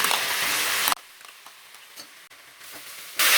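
Ginger garlic paste sizzles in a hot pan for vegetable biryani, a steady loud frying hiss that cuts out briefly, continues softer with small crackles, then surges loud again at the end.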